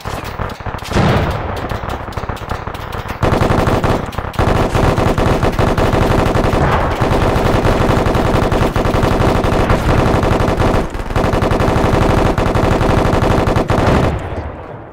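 Sustained machine gun fire rattles through a military video game compound assault, loud and nearly continuous bursts with only brief breaks, no voices over it.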